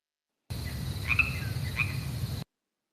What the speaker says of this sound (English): Oh, is there crickets?